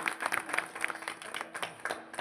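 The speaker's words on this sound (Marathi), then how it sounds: "टाळ्या वाजवा परत एकदा." Audience clapping at a Marathi kirtan devotional gathering, a scattered patter of many hands that rises in small bursts over about two seconds, moderately distant and without voices.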